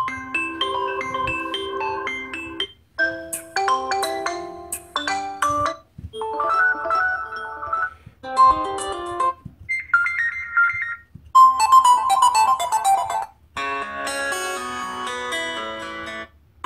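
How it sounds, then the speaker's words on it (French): Several ringtones from a Xiaomi Mi Max 2 phone played one after another, each a short bright melodic loop of chimes and tones with brief silences between, clear and fairly loud without speech. "aller voir ce qu'il y a comme sonnerie du téléphone"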